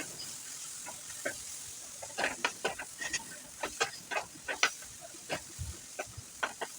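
Roasted masala with chopped coriander being stirred in a pan, soft irregular scraping and clinking strokes over a faint sizzle, fairly quiet and close.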